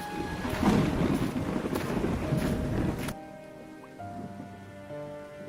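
Heavy monsoon rain pounds a poor family's village hut as a dense, steady roar that stops abruptly after about three seconds, leaving a quieter background with faint tones.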